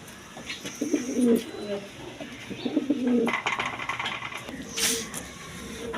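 Several pigeons coo in low, throaty phrases at a stock market, with someone talking over them and a brief sharper noise near the end.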